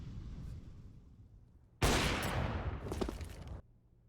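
Gunfire in Counter-Strike on the Nuke map during an esports match: a sudden loud burst of rapid shots lasting nearly two seconds, cutting off sharply, over quieter background game noise.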